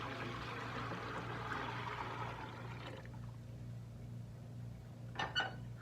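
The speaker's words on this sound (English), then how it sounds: "I'm going to add the 3 quarts of water back to this original grain pot." Three quarts of water pour into a grain pot while brewing a one-gallon batch of amber ale. The soft, steady pouring wash lasts about three seconds and then fades to quiet room tone, ending with a faint clink.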